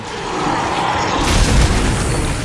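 Stasis container in Dead Space 3 shot and bursting: a loud, deep boom that hits midway and swells into a rumbling burst that carries to the end, with no talk.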